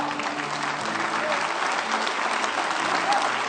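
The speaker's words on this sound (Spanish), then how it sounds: "Vamos, aplaudir fuerte al Rey." A church congregation applauds loudly in a continuous, dense wash of clapping that holds steady throughout, with no pauses.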